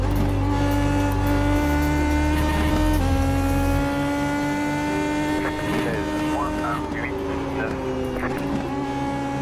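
A racing car in a sim video game, driven at night, holds a loud, steady engine drone that steps through gear changes, with faint tire noise over the sustained tone.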